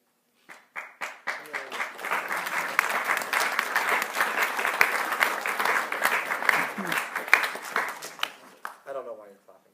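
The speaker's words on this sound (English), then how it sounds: "I don't know why you're clapping." An audience claps for a band director saying goodbye, starting with a few separate claps that quickly swell into dense, steady applause for several seconds before tapering off, with voices talking underneath.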